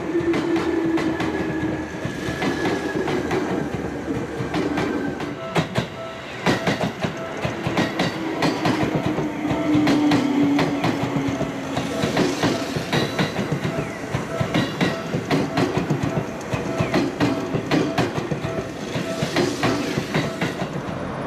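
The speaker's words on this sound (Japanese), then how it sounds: "次に、列車の動きを見てみましょう。" A Seibu Shinjuku Line train rumbles past on a downhill grade beneath a Tobu Tojo Line railway bridge near Hon-Kawagoe Station, with loud, close, steady clickety-clack of wheels on rails and a faint squeal, and no talking.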